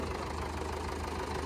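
A tractor engine runs outside at a steady idle, a low continuous rumble with faint knocking pulses and no speech.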